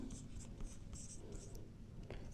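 Writing on a board during a physics lesson on electric fields, with soft scratchy strokes in short bursts, close but faint under a quiet room hum.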